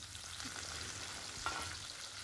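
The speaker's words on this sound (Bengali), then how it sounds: "বেগুনগুলোকে আমি আরও কিছুক্ষণ ভেজে নেব আলুর সাথে" Potatoes and eggplant frying in oil in a pan over low to medium flame, a steady soft sizzle with a faint clink near the middle, no talk.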